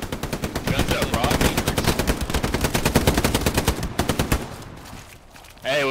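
Dense machine-gun and rifle fire in a World War II video game, rapid rhythmic bursts hammering loudly for several seconds before breaking off into scattered shots and a final burst, with no talking.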